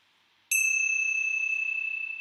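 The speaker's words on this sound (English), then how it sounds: "And we'll close with the ringing of the bell." A single bell struck once to close a meditation chant, giving a bright, clear ding that rings on as a long, slowly fading tone in otherwise quiet surroundings.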